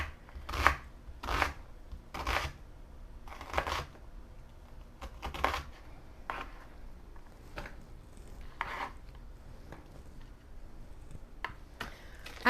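A knife dices onion and garlic on a cutting board, a series of crisp close chopping knocks in quick irregular bursts separated by short pauses, no talking.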